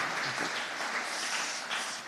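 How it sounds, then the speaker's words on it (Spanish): Congregation in a church service applauding together, a steady dense clapping wash that holds for a couple of seconds at moderate level with no speech over it. "Desen todos un fuerte aplauso,"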